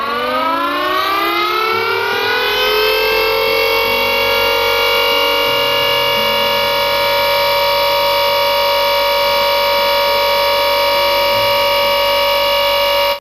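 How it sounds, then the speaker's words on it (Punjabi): A loud all-clear civil defense siren winds up and holds one steady wailing tone for a long stretch, with a low hum underneath. "ਗ੍ਰੀਨ ਸਾਇਰਨ ਦੀ ਆਵਾਜ਼ ਇਸ ਤਰ੍ਹਾਂ ਹੋਵੇਗੀ"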